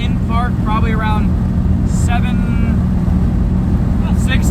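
A 1985 Chevy square body truck engine idles in park at around 700 RPM, a steady low rumble held throughout while someone talks over it.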